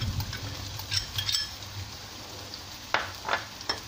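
Chili sauce goes into garlic and onion frying in a pan for dark soy sauce fried rice, making a close, uneven sizzle broken by several clinks and scrapes of a utensil against the pan.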